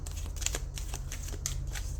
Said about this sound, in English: It means that the side shuffle does really well.